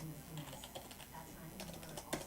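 Quiet clicking of keys on a computer keyboard, a loose scatter of taps with a slightly sharper one near the end. Faint and close, with some background voice present.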